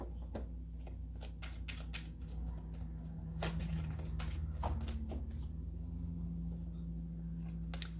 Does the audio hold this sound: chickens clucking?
no